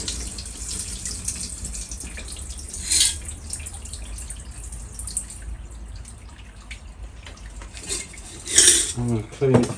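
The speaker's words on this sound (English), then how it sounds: "So what I'm going to do is get this water out of there, because this is tap water." Tap water tipped out of a container during gold jewellery refining, with metallic clinks of utensils and dishes, a trickling drip and splashes toward the end, close and fairly loud.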